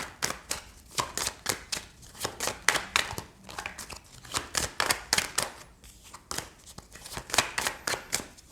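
Oracle cards being shuffled by hand in close, crisp bursts of riffling and flicking that repeat in an uneven rhythm, quiet and alone.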